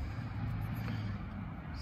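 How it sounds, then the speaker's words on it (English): Trucks pass on a nearby road along the Potomac River, a low steady rumble of traffic that holds at a moderate level throughout. "You can hear the trucks going by on the road there."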